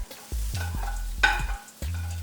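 Diced onion, ginger and garlic sautéing in a pan for a broccoli cauliflower stir fry, with bursts of stirring and tossing scrapes between steady sizzling, close and moderately loud, no talking.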